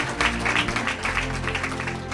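A church congregation claps and cheers for Jesus during a sermon, a dense wash of applause and voices with a sustained musical tone beneath it.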